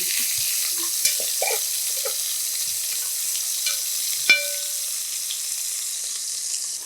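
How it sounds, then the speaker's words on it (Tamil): Chicken for Arabic chicken biryani sautés in a pan with a steady, close hiss of sizzling oil, broken by soft scraping stirs and a sharp clink of a utensil partway through. "ஒரு 5 நிமிஷம் நல்லா அப்படியே வதக்கி எடுத்துடலாம்"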